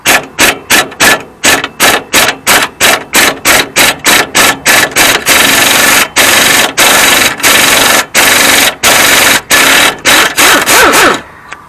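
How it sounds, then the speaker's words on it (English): A 3/8-inch impact gun hammers at a 13 mm brake caliper bolt on a Dodge Ram 2500, with loud, close bursts of rattling impacts, short pulses at first, then longer sustained runs until the bolt breaks free. "Got my 3/8 impact gun"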